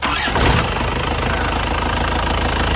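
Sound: 1995 Isuzu TFR pickup engine started and idling

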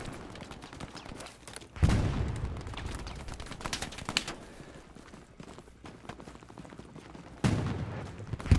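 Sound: machine gun fire in Hell Let Loose video game

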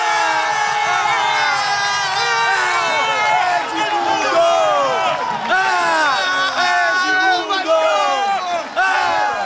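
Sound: Vasco fans cheering after Edmundo's penalty goal at São Januário

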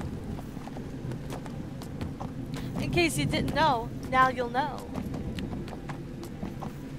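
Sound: horse hooves in the video game Neverwinter

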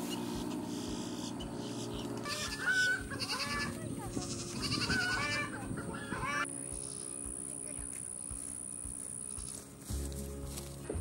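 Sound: goats bleating

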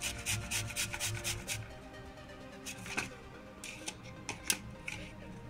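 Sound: grating aloe vera on a grater

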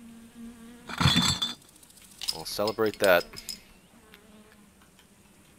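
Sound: bees buzzing in My Summer Car video game

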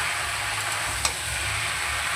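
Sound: vegetables being stirred and frying in a pan

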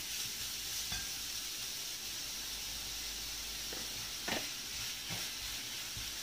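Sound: vegetables being sautéed with salt in a pan

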